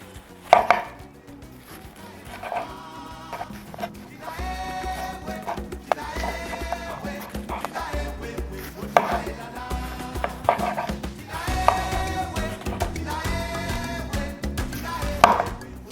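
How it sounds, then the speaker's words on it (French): A sharp knife finely slices Chinese cabbage (pet-saï) on a cutting board: quick, close, rhythmic cuts in bursts, with short pauses between runs. "ce qu'on va faire, c'est émincer très finement le chou à l'aide d'un bon couteau"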